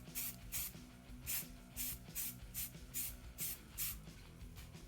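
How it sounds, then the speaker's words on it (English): A can of filler primer sprays light coats onto a 3D-printed part in short, close hissing bursts, about eight or nine quick sprays in a fairly regular rhythm with brief gaps between them. "I pre-shucked this can of filler primer. We're just gonna go light coats."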